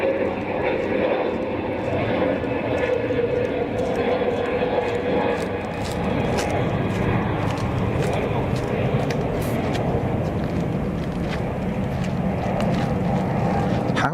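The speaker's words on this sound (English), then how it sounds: "320 Neo out to Heathrow" Airbus A320neo departing Zurich Kloten Airport for Heathrow: a steady, broadband jet engine roar holds at constant loudness throughout, with light voices underneath.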